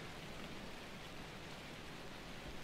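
Rain falling in the video game Shelter 2, a faint, steady, even hiss of downpour with no other sounds or voices.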